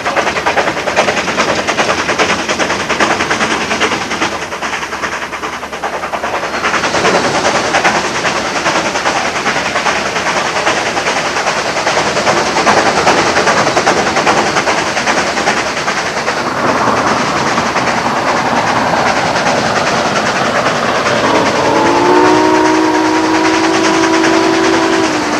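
Southern Pacific 4449, the Daylight steam locomotive, rumbles past with a loud, continuous clatter of wheels and rolling cars, and its whistle sounds in sustained blasts near the end.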